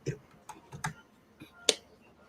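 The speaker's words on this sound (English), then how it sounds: "My typing really threw you off, didn't it?" Computer keyboard typing heard as a few scattered, sharp clicks and taps, fairly close and quiet, with gaps between keystrokes and no talking.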